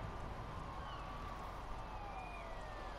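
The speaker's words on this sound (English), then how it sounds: "Surely that cop could turn his siren off." A faint police car siren in the video game inFAMOUS Second Son wails in the distance, its tone sliding up and down over a low, steady background rumble.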